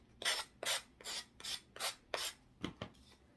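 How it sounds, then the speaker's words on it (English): Rhythmic rasping strokes of a sanding block on wood, about eight even back-and-forth passes, close and clear with no talking. "I can't really seem to get into the corner with the sanding block."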